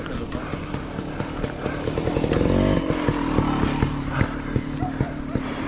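A motorcycle engine putters and revs up close near Joey's Peak campsite, its rhythmic chugging steady then climbing, with talking mixed in over it.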